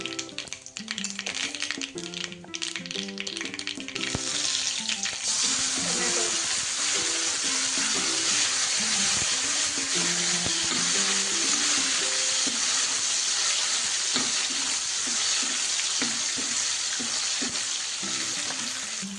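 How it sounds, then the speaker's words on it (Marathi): Curry leaves and asafoetida crackle into hot oil for varan batti, setting off a loud, steady sizzle that runs without a break over background music, with no one talking. "आता कढीपत्ता टाकूया थोडा हिंग"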